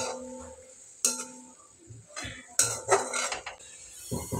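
A spoon stirring fenugreek greens (methi bhaji) in a metal pan, making clinks and scraping knocks in uneven bursts, close and moderately loud.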